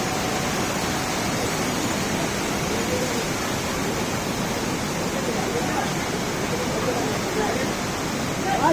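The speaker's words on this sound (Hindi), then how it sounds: "कितना प्यारा झरना बह रहा है" A waterfall flows beside a mountain trail on the Kedarnath pilgrimage route, a steady broadband rush of water that stays constant and fairly loud throughout.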